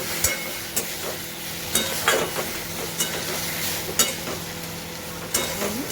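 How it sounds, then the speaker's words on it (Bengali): Spices frying in a pan of pointed gourd, potato and prawn curry, a steady close sizzle with sharp scraping stirs of a utensil at irregular intervals, no talk. "এটা দিয়ে একটু ভেজে নেব"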